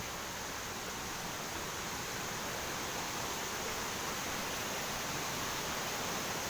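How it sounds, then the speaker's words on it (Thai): Sapan Lao waterfall, a single-tier fall in Thong Pha Phum, Kanchanaburi, roars as a steady, dense wash of falling water, loud and unbroken throughout with no voices. "โอ้น้ำตกเป็นอย่างนี้นะครับ"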